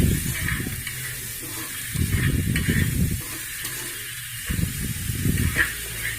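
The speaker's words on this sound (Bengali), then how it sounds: "একইভাবে এটাকেও নাড়াচাড়া করে মিশিয়ে ভাজা করে নিতে হবে।" Garlic paste stirred and frying in hot oil for a Bengali egg curry, a steady soft sizzle and hiss close by with intermittent stirring scrapes, no voices.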